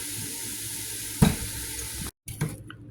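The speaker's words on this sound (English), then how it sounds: "I'm just going to start throwing in the tomatoes and they can just start breaking down" Tomatoes cooking down in a pot of homemade tomato soup, a steady close sizzle and simmer with a brief stirring clatter partway through, no talking.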